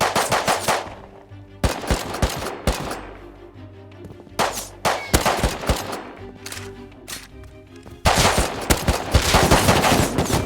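AK rifle fire in a video game: loud bursts of automatic shots rattle in several clusters, with brief pauses between volleys and a heavier sustained burst toward the end.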